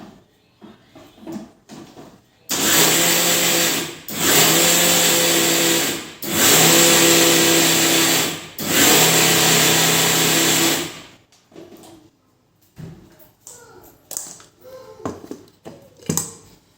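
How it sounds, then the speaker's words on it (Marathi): Mixer grinder blending a flaxseed chutney with garlic, running in three loud steady bursts of whirring motor with short pauses between, then quieter clatter and handling noises afterward. "नंतर मिक्सरला बारीक करून घ्यायचं"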